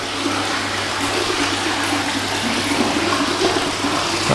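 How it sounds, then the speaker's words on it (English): A new 18,000 litre per hour pond pump drives a strong, steady rush of water, a loud continuous splashing flow close by with a low hum underneath. "that's definitely a lot more water than the old pump used to pump"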